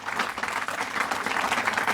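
A hall full of people claps steadily at an award ceremony, a dense, even wash of applause with no pause, heard from within the audience.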